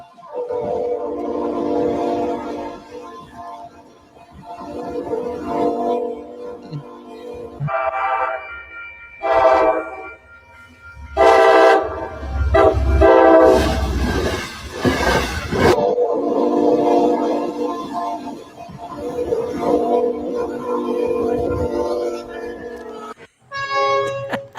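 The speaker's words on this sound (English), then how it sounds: "trains plowing through snow" Loud trains plowing through snow rumble and roar with blaring horn blasts, heavy mechanical noise surging and falling throughout, and voices faintly mixed in.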